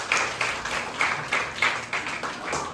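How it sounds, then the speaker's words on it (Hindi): Children clap for a speaker at a school Teachers' Day celebration, a thin, scattered round of applause with soft periodic bursts of claps heard from a moderate distance. "तो सर के लिए एक बार तालियां बजाना प्लीज।"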